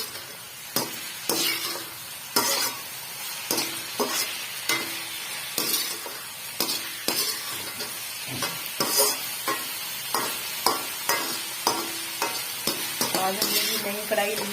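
Pakoras fry in a brand-new kadhai over high heat, a continuous close sizzle broken by regular clattering stirs roughly every second throughout, with no speech over it.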